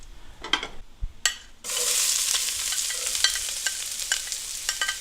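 Onions sizzling and spitting hard in a pan over too-high heat, a loud, close frying hiss that jumps in after a few quiet clicks and keeps crackling steadily.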